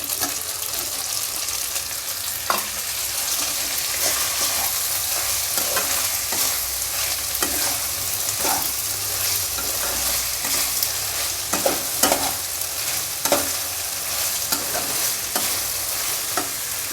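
Chopped onion fries in a pan under a continuous close sizzle, with repeated scraping stirring strokes landing at irregular intervals throughout.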